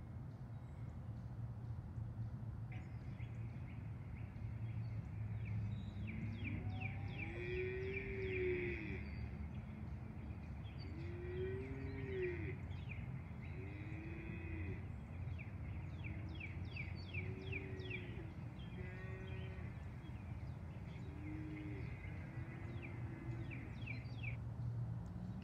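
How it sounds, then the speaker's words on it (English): Outdoor nature scene with low, drawn-out cow moos repeating every second or two, while birds chirp and twitter higher up over a quiet background hum. "Could you hear all the cows mooing and the birds chirping?"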